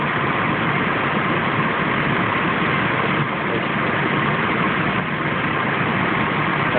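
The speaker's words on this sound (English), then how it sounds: "Now the compressor's staying on for a longer period of time." An AC compressor on a 1998 Chevy Blazer runs continuously with a steady engine-bay drone, close and even in level, with no voices.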